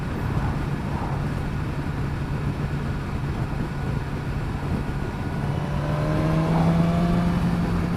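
A new motorcycle engine drones steadily at a moderate distance, its pitch climbing in a rising rev during the last couple of seconds.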